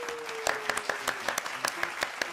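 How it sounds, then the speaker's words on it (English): Audience applause at a skateboarding trivia show, a thin scatter of claps with distinct individual hits, fairly faint, alongside a faint tone. "And this is when everyone claps."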